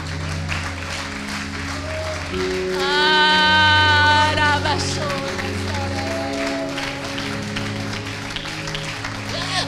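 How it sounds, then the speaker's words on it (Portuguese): Church congregation applauding during a Sunday service, sustained clapping under organ or keyboard music, with a voice singing or calling out over it through the middle stretch. "Você pode aplaudir ao Senhor."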